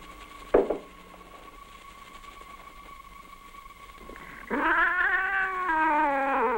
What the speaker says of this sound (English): She's a cat.